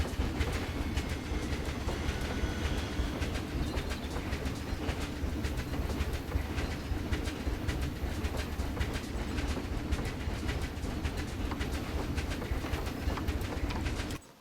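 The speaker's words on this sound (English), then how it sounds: "I got distracted by the train." A train ride in the zoo management game Planet Zoo, with a steady rolling rumble and faint clickety-clack of rail cars running continuously and fairly close, mixed with chirping birds and ambient park sounds throughout.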